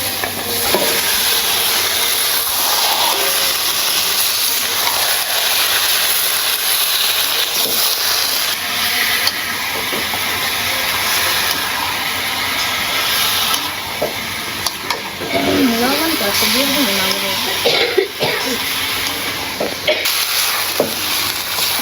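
Chicken meat sizzles and fries loudly in spiced masala in a pan for bhuna khichuri, a steady close hiss and crackle with occasional stirring scrapes throughout.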